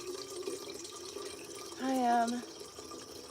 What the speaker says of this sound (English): filling the kettle